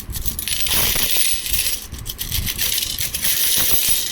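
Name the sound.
Nepal 1 and 2 rupee coins being handled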